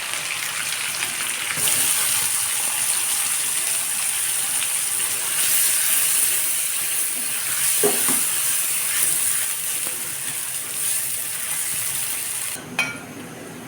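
Onions fry in oil already used for browning chicken for an Eid chicken roast, producing a steady, fairly loud sizzle with occasional utensil scrapes and a clack near the end.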